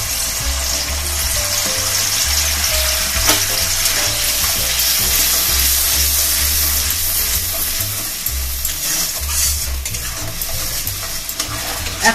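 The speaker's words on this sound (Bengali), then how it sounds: "এখন একটু কষিয়ে নেব" Tomato paste with ground cashew, poppy seeds, ginger, green chili and melon seeds fries in a pan, giving a continuous close sizzle with stirring scrapes and a low rumbling hum underneath, no talk.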